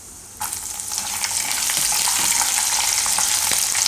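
Green chilies and peanuts hit hot oil for curd upma, bursting into a loud, bright sizzle that starts abruptly and keeps crackling steadily, with light stirring scrapes.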